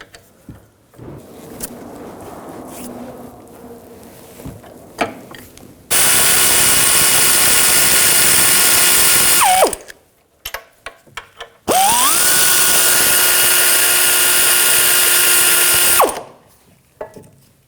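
Power tool with an 18mm socket removing the rear caliper bracket bolts on a 2006-2010 BMW 550i: two long, loud whirring bursts, each spinning up and winding down, separated by quiet clinks.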